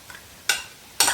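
A spoon stirs cream with apple, onion, mushroom and bacon in a hot pan for a chicken liver dish. Two distinct scraping strokes come about half a second apart over a faint sizzle, and no one speaks.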